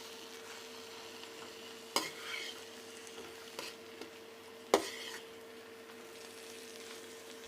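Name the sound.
stirring kachori masala with green coriander in pan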